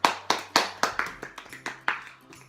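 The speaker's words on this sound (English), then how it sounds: "Let's clap it up." A few people clap together in uneven bursts, about ten sharp near claps over a couple of seconds, with a faint steady hum underneath.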